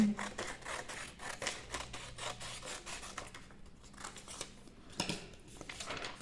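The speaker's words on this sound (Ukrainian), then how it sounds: "Відрізаємо смужку з синього паперу." Scissors cutting a strip of blue paper for a craft, with a series of close, soft rubbing snips and rustles coming in uneven bursts, with no voices.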